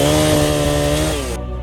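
Chainsaw engine roaring steadily up close while cutting fallen, storm-downed trees lying across a mountain road, then cutting off abruptly near the end.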